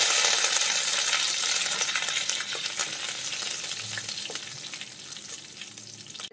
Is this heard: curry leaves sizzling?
yes